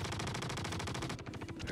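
Rapid automatic weapon fire from a gun in the video game Star Citizen, a loud, steady stream of close shots that briefly thins before resuming.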